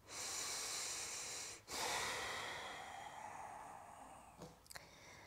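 A long, steady inhalation while lifting the hips into yoga bridge pose, a broad airy rush breaking briefly and resuming before tapering off, ending with a couple of faint soft clicks. Close and alone, with no talking.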